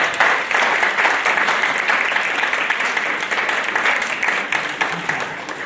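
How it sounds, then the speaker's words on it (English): An audience at a school winter concert gives sustained, loud applause, with a thick, even crackle of many hands clapping throughout. "So parents, give a round of applause to our students."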